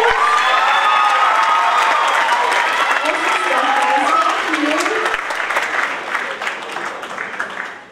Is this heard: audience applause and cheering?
yes